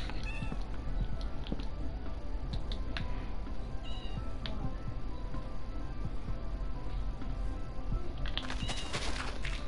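Video-game kittens let out a series of short, high meows at intervals, fairly faint against a constant busy game background, with a cluster of brighter sharp sounds near the end.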